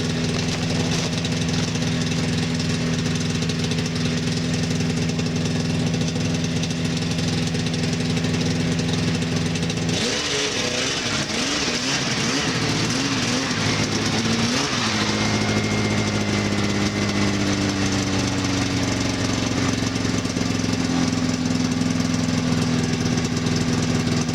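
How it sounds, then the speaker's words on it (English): Yamaha Phazer snowmobile engine running steadily up close, a loud continuous drone with a rougher, revving stretch in the middle before settling back to a steady run. "this is the first time the sled's moved under its own power for several years"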